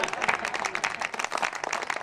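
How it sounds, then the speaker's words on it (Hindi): An audience at a Hindi kavi sammelan poetry gathering claps together in a dense, loud burst of applause that lasts about two seconds, with crowd noise mixed in. "अपने आप से प्यार हो तालियां बजाएं"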